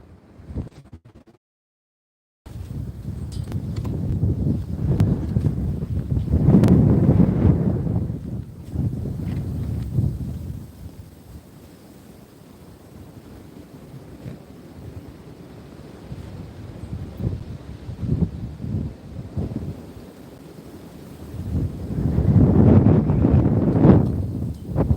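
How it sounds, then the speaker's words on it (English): Strong gusty wind buffets the microphone outdoors during a fishing trip, surging in heavy low roars and easing between gusts, with no talking. "the wind is ridiculous"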